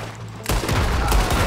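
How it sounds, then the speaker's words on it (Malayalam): Rapid gunfire from the video game Red Dead Redemption 2, a loud, dense burst of overlapping shots that erupts suddenly after a quiet moment and keeps going steadily to the end. "അത് ഞാനാ വെടി വെച്ചു കേട്ടോ"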